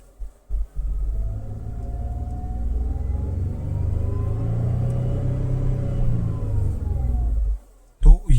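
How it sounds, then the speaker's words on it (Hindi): Inside a Tata Punch compact SUV, the engine drones and climbs in pitch as the car accelerates gradually, a steady low cabin rumble with road noise lasting several seconds before it cuts off. "इसके अंदर जो कैबिन नॉइस है एक्सेलरेट करने के बाद वो कितनी आती है, वो देखना आप लोग"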